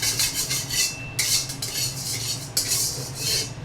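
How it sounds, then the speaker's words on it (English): Chow mein noodles are tossed in a lightly oiled wok over low heat, giving a close, continuous scraping sizzle with metallic clinks and bursts of stirring. "So I'm gonna stir fry these."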